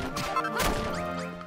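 A single crunching hit on a dirt block in Dragon Quest Builders, one sharp close impact layered over soft background game music.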